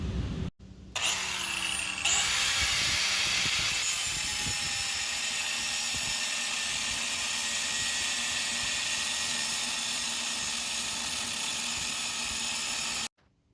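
Steady, hissing grinder-like cutting on a car hauler trailer beam, loud and continuous for most of the stretch before stopping abruptly near the end, with no talking.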